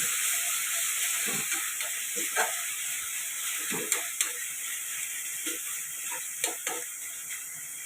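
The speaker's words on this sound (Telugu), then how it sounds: "ఇప్పుడు టమాటా కూడా ఆయిల్లో బాగా ఫ్రై అవ్వాలండి" Tomatoes frying in oil give a soft, steady hiss with scattered sputters and a few louder pops, close and fairly quiet, with no voices.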